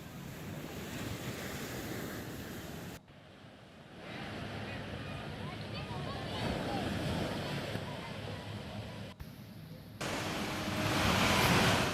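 Calm waves washing onto the white sand shore of Sanur beach in Bali, a steady surf roar mixed with wind buffeting the microphone, broken by a few abrupt cuts between shots.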